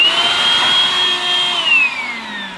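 Goblin 2-in-1 cordless stick vacuum, used as the handheld unit, picking up spilled red lentils with a loud, close whine whose pitch holds steady, then slides downward near the end.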